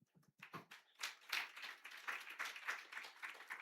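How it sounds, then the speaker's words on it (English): An audience at a youth concert and launch event claps, a quiet, fairly distant patter of many hands with a few sharper single claps at the start. "While we have our hands still clapping"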